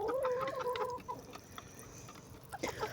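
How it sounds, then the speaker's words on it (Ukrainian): Hens in a rural village coop give a few close clucks and a short squawking call over the first second. Quieter scattered clucking and rustling follow, with another burst of activity near the end. "Мені потрібні курі, щоб несли яйця"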